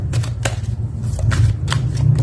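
Tarot cards are shuffled and drawn in a reading, giving a run of crisp, close riffling flutters and soft slaps over a low steady hum, with no talking.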